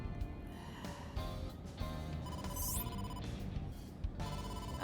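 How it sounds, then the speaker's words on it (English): A cell phone in a video game rings for an incoming call, a quiet, repeating electronic tone pattern pulsing in short bursts over a soft game background, with no speech. "Dante, incoming call from the boss"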